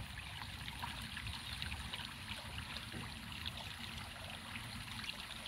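Water trickles and burbles steadily in a small stream, a faint, continuous outdoor flow with no voices.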